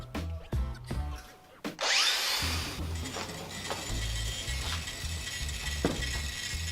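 An angle grinder held at about 45 degrees against metal, spinning up with a rising whine and then a steady, loud abrasive grinding hiss with low motor drone, continuing without pause.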